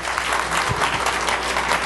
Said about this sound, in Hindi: तो एक बार उन सभी माता पिताओं को जोरदार ताली जरूर मिलनी चाहिए।